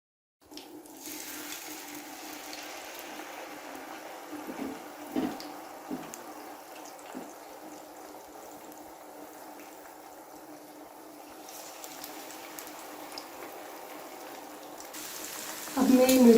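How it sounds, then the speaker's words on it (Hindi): Fish pieces frying in hot oil over medium heat for a Lahori fish fry, a steady soft sizzle and crackle throughout, fairly quiet, with someone speaking over it near the end. "अब मैं मीडियम आंच पे फ़िश को फ्राई कर रही हूँ"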